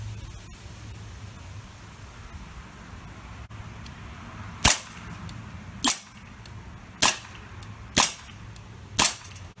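Five sharp, cracking shots from a Crosman PFM16 CO2 BB air pistol fitted with a silencer, spaced about a second apart and still loud, over a steady background hiss.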